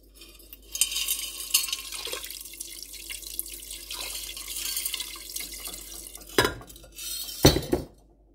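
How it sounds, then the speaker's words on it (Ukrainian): Water pours into a 5-litre pot holding chunks of meat for borscht, a steady close splashing stream with clinks of the pot and two louder gushes near the end. "Заливаю воду."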